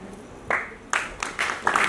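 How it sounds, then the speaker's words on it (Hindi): An audience claps in short scattered bursts, several separate rounds of applause rising and falling over a quiet hall, moderately loud and fairly close. "अब आप सब लोग ताली बजा रहे थे"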